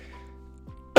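A single short, sharp cough from a person with allergies bursts out abruptly at the very end after a quiet stretch with a faint steady hum.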